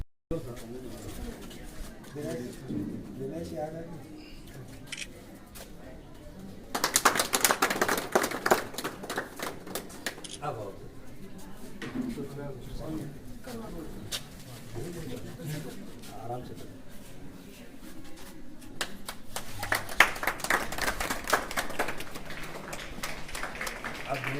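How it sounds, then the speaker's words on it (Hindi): Audience clapping at a government school event in India, broad bursts of applause rising around the middle and again near the end, mixed with crowd chatter and bird calls in an open setting. "पुनः जोरदार एक बार इनके लिए आप ताली बजा दें"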